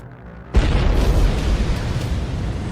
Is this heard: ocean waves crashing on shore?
no